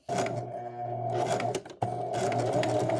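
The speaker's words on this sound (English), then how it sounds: "we don't want to get that caught into the sewing machine." A sewing machine runs in steady mechanical bursts stitching a fabric scrunchie, pausing briefly mid-way before resuming its rapid, buzzing stitching, close and loud with no voices.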